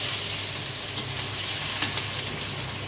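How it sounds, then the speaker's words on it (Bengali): Onions fry in oil in a wok after whole garam masala, cumin and dried red chillies have gone in: a steady close hiss with a few soft stirring clicks, no voices. "পেঁয়াজ দিয়ে দিলাম।"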